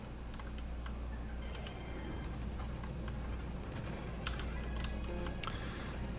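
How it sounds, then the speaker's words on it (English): Fast typing on a computer keyboard during a Pokémon Platinum game session, a scattered run of light clicks and taps over a steady background hum, fairly faint and with no talking. "Might be typing a little too fast."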